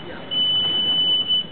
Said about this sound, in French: ça va faire bip quand je vais passer dessus